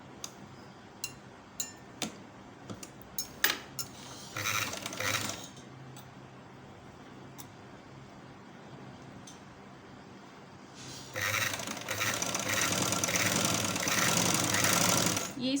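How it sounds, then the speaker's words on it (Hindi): A sewing machine stitches along a fabric strip for a girl's sleeve design, a short burst midway and a longer steady whirring run near the end, with a few clicks and taps earlier. "ये इस पट्टी की दूसरी तरफ हम ये सिलाई लगा लेंगे"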